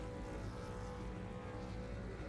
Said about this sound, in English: Lights are almost ready. They're warming up. The cars are revving.